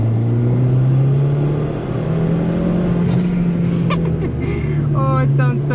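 A 2015 Fiat Abarth 500 manual's engine drones and accelerates steadily from inside the cabin, its pitch climbing gradually, with faint speech over it near the end.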